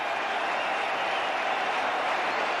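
A crowd at the 1996 Cricket World Cup final between Australia and Sri Lanka applauds steadily, a continuous, even wash of clapping and cheering heard from a distance.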